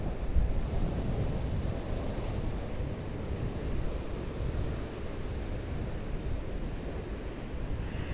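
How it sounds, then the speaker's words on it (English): Ocean surf surges continuously against rocks and sand around an ocean pool at daybreak, a steady broad wash of breaking waves with wind buffeting the microphone, no voices. "The power of the sea."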